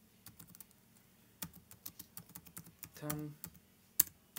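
Rapid keystrokes on a computer keyboard as a search query for YouTube thumbnails is typed, irregular close clatter with short pauses and a brief burst of voice partway through.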